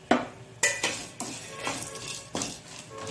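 Spoonfuls of moong dal, chana dal and urad dal go into a hot pan with pepper, a series of quiet clinks and scrapes of a metal spoon against the pan, spaced irregularly.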